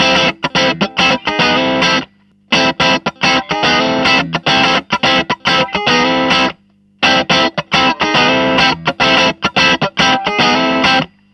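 Electric guitar with a crunchy overdriven tone through a BOSS GT-1 multi-effects unit, played as loud strummed chord phrases in three bursts with brief pauses between them.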